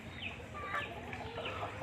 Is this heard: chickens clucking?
yes